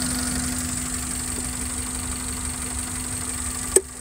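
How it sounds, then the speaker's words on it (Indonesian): A car engine idles very quietly at about 800 RPM after an injector service, a faint steady low hum with a constant tone running throughout and a brief click near the end. "Yang luar biasa tuh suara mesinnya. Nyaris tak terdengar."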